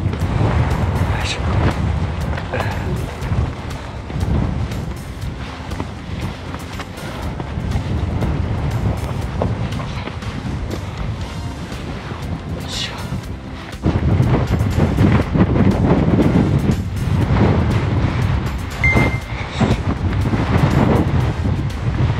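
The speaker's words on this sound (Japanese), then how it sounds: "さっきから強風が止まらん。" Strong wind roars across a misty mountain trail on the way to the Mount Aso summit, a continuous buffeting rumble against the microphone that grows heavier midway, with voices talking faintly underneath.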